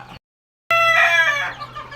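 A chicken gives a loud, close, drawn-out call after a brief silence, its voice harsh and strained, then trails off.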